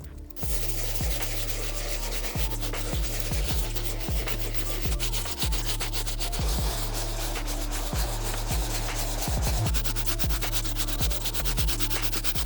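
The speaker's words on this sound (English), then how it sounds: "We're gonna start with the soft to give the upper a good scrub in a circular motion" A soft bristle brush scrubs the upper of a dirty white sneaker in circular motions, giving close, steady rhythmic scratching strokes that repeat without pause.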